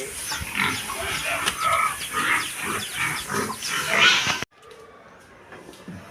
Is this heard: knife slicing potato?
no